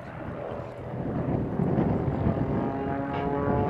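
An Extra 230 aerobatic aeroplane pulling up into a half loop at an air display, its propeller engine droning steadily and swelling slightly, heard from a distance with some wind noise.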